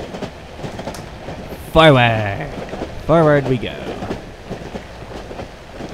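A long train rolls along in the horror game Cry of Fear with a steady rumbling clatter throughout, while someone speaks briefly over it.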